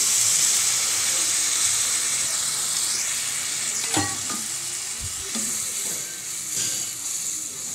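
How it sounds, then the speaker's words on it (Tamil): Steady loud sizzling and frying with a sharp hiss and a few clatters as water hits the hot pan of masala for yam kuzhambu, then the bubbling continues. "இதில் தண்ணி சேர்த்துருவோம் குழம்புக்கு தேவையான தண்ணி"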